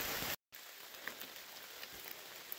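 Steady rain patters through the woods along a hiking trail on a humid, foggy morning, a soft continuous hiss of drops on leaves and ground at low volume.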